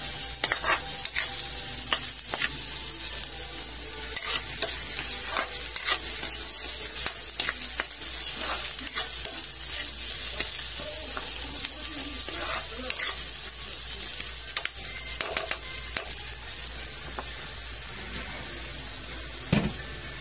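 Onion and garlic sauté in hot oil for Filipino menudo, a continuous sizzle punctuated by repeated scraping stirs of a spatula against the pan, close and fairly loud throughout with no talking.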